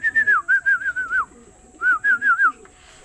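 Racing pigeons call in two short bursts of wavering, whistle-like coos, close and clear, with a brief quiet gap between them.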